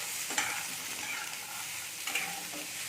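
Grated radish with salt and turmeric stirred in a hot pan, a continuous soft sizzle with a few quick scraping strokes of a spatula, close and fairly quiet.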